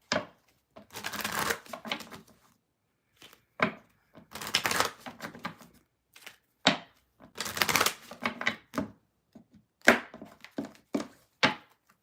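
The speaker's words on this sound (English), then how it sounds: "only 2 more decks to shuffle" Tarot cards being shuffled by hand, a run of crisp papery riffles and soft flutters in repeated bursts with short pauses between them, close and fairly loud, no talking.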